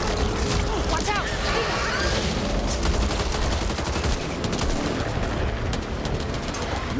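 Rapid SMG gunfire in the Back 4 Blood video game, dense sustained bursts crackling continuously over constant loud game noise, with voices shouting at times.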